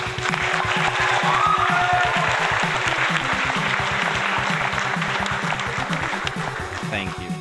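Applause sound effect, a steady crackle of clapping lasting several seconds over rhythmic chiptune-style music from a Batman NES game.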